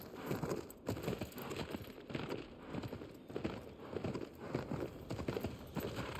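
Steady hoofbeats of a horse trotting and galloping through dense, crackling game ambience in Shadow of the Colossus, fairly quiet and continuous with no talk.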